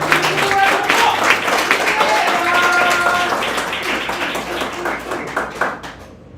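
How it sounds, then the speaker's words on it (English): An audience at a poetry event at the Loisaida Center applauds, dense clapping with cheers and whoops mixed in, loud at first and gradually thinning, then dying out toward the end. "Give them a round of applause!"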